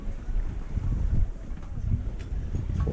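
Steady wind buffets the microphone aboard a sailboat sailing close-hauled in a 5–6 m/s breeze, a continuous low rumble with gusty swells and faint water movement beneath, with no talk.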